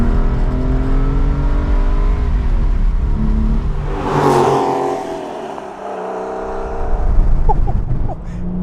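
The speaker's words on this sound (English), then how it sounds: "Wow, it gets up to red line quick." A Porsche 993 911 Carrera 4S flat-six revs quickly toward redline, loud and close, its deep rising engine tone surging and then dropping back to a lower rumble.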